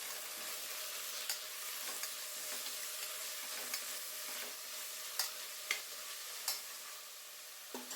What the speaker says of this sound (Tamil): சேர்த்து இதை ஒரு 2 நிமிஷத்துக்கு நல்லா வதக்கி விட்டுருக்கலாம்